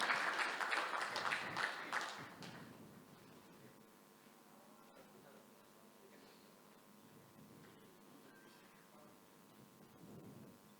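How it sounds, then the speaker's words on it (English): Audience applause at the inaugural session of a global business summit: a loud round of clapping for the first two seconds or so, then fading fast into a quiet, murmuring hall. "Let's have one more big round of applause, everybody."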